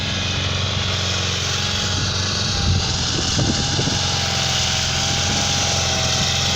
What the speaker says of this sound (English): There's the tractor.